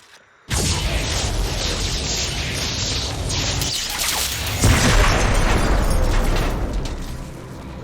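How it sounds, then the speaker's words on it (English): A power structure in StarCraft 2 is destroyed with a sudden loud explosion, followed by a sustained roaring crash and rumble, then a second heavy burst that slowly fades. "With the hybrid eliminated, we can safely destroy the power structure."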